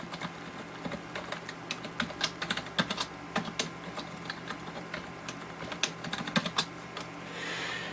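Quick, uneven keystrokes tapped on a computer keyboard while setting a password on a small-form-factor PC, close and clicky with short pauses between bursts and no talking.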